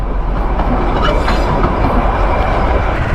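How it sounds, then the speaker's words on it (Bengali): The Darjeeling toy train rumbles along the rails close by, with a loud steady roar and faint rhythmic clatter throughout. "Toy train."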